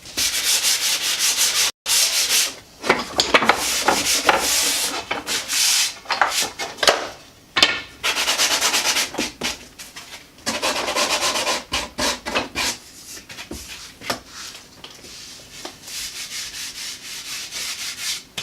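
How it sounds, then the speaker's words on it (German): Hand sanding of a wooden trim strip for an organ console: close, scratchy rubbing strokes in irregular bursts, with short pauses between passes and no voices. "ich schleife das eben noch zu Ende"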